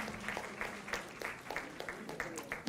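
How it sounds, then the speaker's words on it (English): Applause from the audience at an all-India management students convention, moderate, steady clapping with some individual claps standing out, fairly distant and continuous throughout. "let's give them a round of applause as well"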